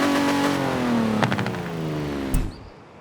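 A 1952 Hudson Hornet in Forza Horizon 4, tuned to 400 horsepower with a 6,000 RPM redline, revs up in a rising harmonic climb, drops back, then blips sharply once more before cutting off, loud and close with no talk.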